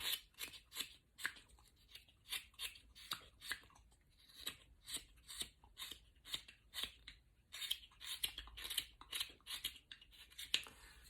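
Wood is cut while a decoy head is carved, a steady series of close, quiet knife strokes that scrape and snip in a fairly regular rhythm, with no talking.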